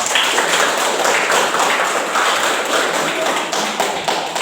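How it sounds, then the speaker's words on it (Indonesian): A classroom group claps in a sustained burst of applause, dense and steady throughout without any talk. "Kasih aplaus untuk kita semua"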